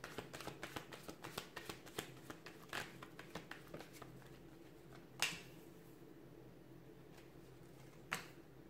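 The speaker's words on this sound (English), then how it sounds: "let's give the cards a shuffle" Tarot cards are shuffled up close in a quick run of crisp riffling flicks, followed by a few sharper isolated snaps against a quiet background.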